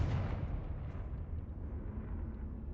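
A Confringo fire blast spell erupts in the video game Hogwarts Legacy as a loud, deep booming blast that rumbles on steadily, with no pause, through the whole moment.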